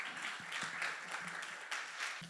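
Faint audience applause at an energy transition forum as a university professor is welcomed to speak, soft steady clapping heard from a distance.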